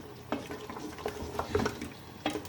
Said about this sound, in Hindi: ये 1 किलो शलजम है। ठीक है। और ये मैं भूनूँगा 2-4 मिनट के लिए।